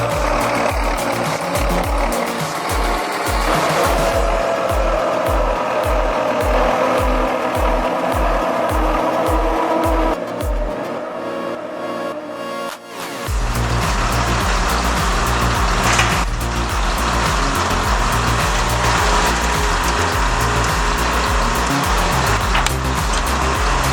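A 120 HP Sisu Naka 645 forwarder hauling timber through swampy ground, its engine droning loud and close with a rhythmic knocking, then a brief drop before a heavy, steady machine roar returns.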